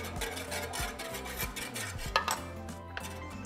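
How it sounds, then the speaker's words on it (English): Heavy cream, pasta water and media crema are stirred together in a pot, giving steady clinking and scraping of a utensil against the metal, with rhythmic taps close by. "Okay, so we're just going to mix it."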